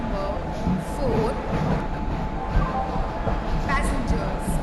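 Station ambience on an Indian Railways platform as the Palace on Wheels Special Express waits, a steady murmur of crowd and machinery with a faint hum and scattered voices underneath, continuous and moderately loud.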